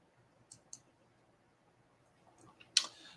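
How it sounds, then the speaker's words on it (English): A single mouse click is made to place a sell-by-market order on a forex trading platform. It comes as a faint, sharp tick in a quiet room, preceded by a couple of softer taps. "I am going to click Sell by Market"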